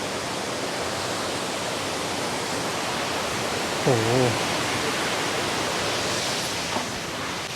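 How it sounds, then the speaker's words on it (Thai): Phlio Waterfall in Chanthaburi, Thailand roars as a loud, steady, broadband rush of falling water, close and continuous, while a person briefly exclaims partway through. "เห็นวิวน้ำตกข้างหลังนะทุกคนนี่"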